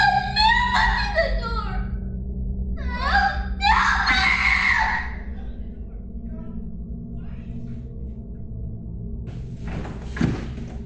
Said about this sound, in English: they suddenly heard their son screaming in terror